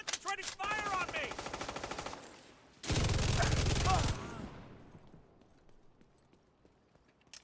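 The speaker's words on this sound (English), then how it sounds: "They're concentrating fire on me." Rapid automatic gunfire in a video game, aimed at the player, comes in two loud bursts, the second sharper and closer, then trails off into a fading echo, with voices talking during the first burst.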